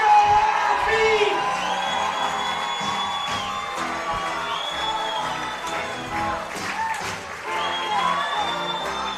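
Baseball crowd at an East Division final game between the Saugerties Stallions and Amsterdam Mohawks, cheering, whooping and clapping steadily in the bottom of the ninth, with an announcer's voice ringing over the noise.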